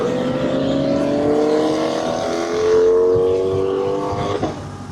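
A car passes close by, its engine revving loudly with rising and shifting tones before the sound drops away near the end; nobody speaks over it.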